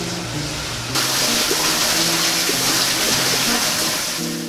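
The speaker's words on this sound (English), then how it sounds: "We got water coming into our hydrator." Water rushes steadily into a brewery mash hydrator, a loud continuous broadband hiss and flow that jumps in level about a second in, with low mechanical hum underneath.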